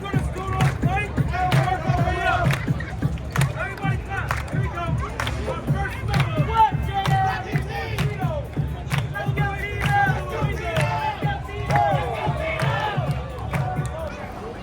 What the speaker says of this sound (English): Saturday evening, and Times Square was packed with people.